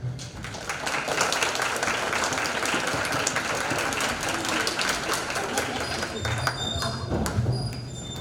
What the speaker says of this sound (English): how about a round of applause for your families?